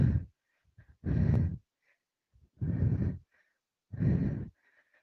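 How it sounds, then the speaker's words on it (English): Heavy breathing after a workout: four loud, deep exhalations spaced about a second apart, close to the mic, with quiet pauses in between. "I'm breathing heavy."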